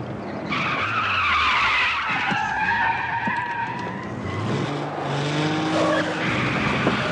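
Car tires squeal and skid under hard braking in a 1970s British TV action chase, long wavering screeches layered over engine roar that rise and fall across the stretch, loud and close with no speech.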